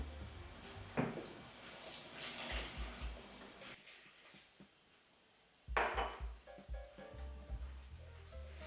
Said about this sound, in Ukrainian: І потроху вливаю воду.